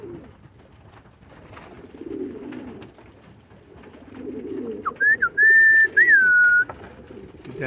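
Pigeons cooing in a loft, soft low throaty coos repeated in the background, then a loud clear whistle near the end, with no talk.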